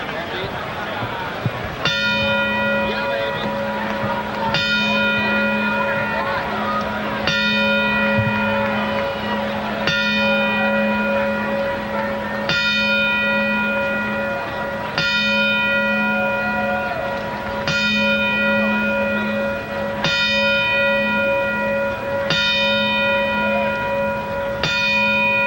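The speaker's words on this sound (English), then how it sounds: "we would like to play our traditional 10-bell salute" A traditional ten-bell salute at a boxing event in memory of Archie Moore: a single bell struck ten times at a slow, even pace, each ring left to fade, over a steady arena hum.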